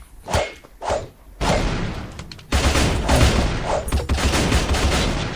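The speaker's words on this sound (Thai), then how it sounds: "ผมได้ยินเสียงปืนอยู่นะ" Rapid bursts of gunfire in the video game Fury Survivor: Pixel Z crack out in quick volleys, loud and close, with sharp repeated shots overlapping into sustained firing.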